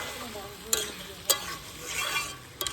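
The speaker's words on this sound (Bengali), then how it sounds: "আর এই যে হচ্ছে মাটনটা কষানো হচ্ছে" Mutton being stir-fried (kosha) in a pan, a faint steady sizzle broken by a few sharp scrapes and clinks of a spoon stirring against the metal.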